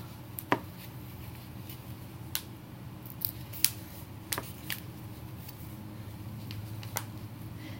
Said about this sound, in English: If your scissors are not cutting the felt well,